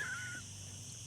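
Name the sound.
voice imitation of Donald Duck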